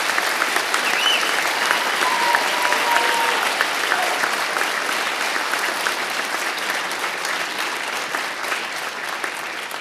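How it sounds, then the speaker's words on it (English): Sustained applause from a large audience at a firefighter graduation ceremony, steady and dense for the whole stretch, slowly tapering slightly. "Ladies and gentlemen, a round of applause for the firefighters"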